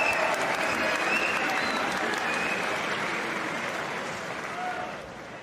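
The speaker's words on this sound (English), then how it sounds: "Ladies and gentlemen, a round of applause for both fighters." A live fight-night crowd applauds both boxers after a four-round bout, steady dense clapping that holds loud throughout and eases slightly near the end.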